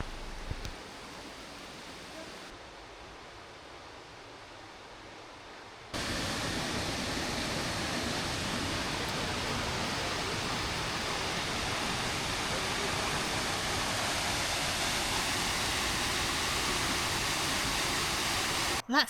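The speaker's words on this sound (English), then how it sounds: "With the water rushing through the forest, it's a peaceful yet dramatic spot" A waterfall rushing through a Swedish forest in spring, a dense, steady roar that grows louder and fuller after a few seconds and holds constant, close and loud, with no talk.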